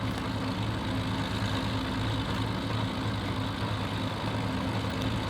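The Rolls-Royce Merlin-style engine of a Spitfire Mk.IIA in Combat Flight Simulator 3 runs at a steady low idle, a continuous even drone with no breaks.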